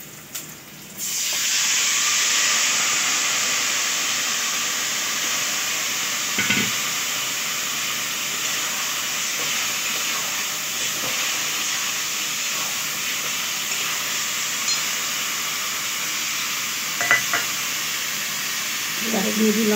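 Mutton dropped into a pan of reddened fried onions bursts into a loud, steady sizzle that starts abruptly and holds as a broad hiss, with a few faint clinks of utensils.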